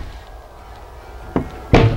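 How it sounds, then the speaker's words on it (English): Glass doors on a traditional barrister bookcase slide shut, giving two short wooden thuds close by, a softer one followed by a louder knock, over a quiet room. "The glass doors slide open and closed."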